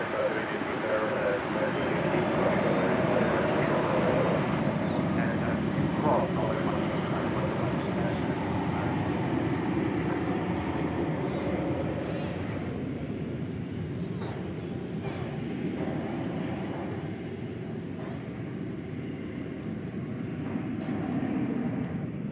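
A jet airplane taxiing at night at DFW Airport on its way to runway 18 left: a steady, moderately distant engine roar and whine that slowly eases and then swells again, with faint scattered background noises.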